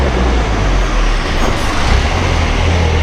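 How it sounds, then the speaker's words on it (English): A truck loaded with durian drives past on a road in Thailand, its loud, steady engine and tyre roar filling the whole stretch with no voices. "That's a truck full of durian."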